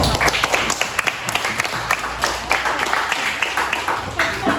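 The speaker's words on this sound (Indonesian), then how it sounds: "Beri tepuk tangan untuk kelompok 1." A group presentation draws applause from a classroom audience, with dense, sustained clapping that fills the whole stretch, fairly close and steady.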